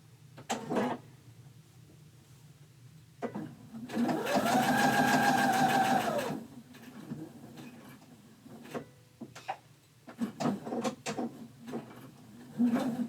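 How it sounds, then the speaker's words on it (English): A sewing machine back stitching at the corner of a fabric bookmark runs in one steady, loud mechanical burst of about two seconds, set among scattered handling knocks and clicks, with no talking. "I want to back stitch there because I'm going to be putting a lot of force on that"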